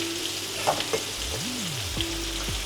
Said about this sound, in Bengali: ফার্স্টে আলুটা একটু ভেজে নেব আমি